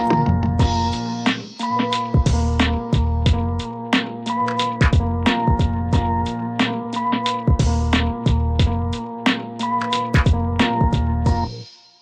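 A punchy 90s-style boom bap hip hop drum beat loops at a relaxed tempo, heavy kicks and crisp snares over a sampled melodic layer, loud and upfront.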